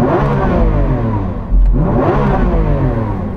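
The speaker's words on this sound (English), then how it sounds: "I'm going to rev up this SVJ" A powerful Lamborghini Aventador SVJ V12 engine revs hard close by, rising in pitch, briefly dipping, then surging up again with a roaring, growling tone.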